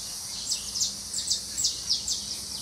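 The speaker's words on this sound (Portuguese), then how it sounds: "Olha o canto dos pássaros lá em cima." Birds sing up in the trees, a run of about eight short, bright chirps at a fairly even pace, heard at a distance over a faint outdoor background hum with no talking.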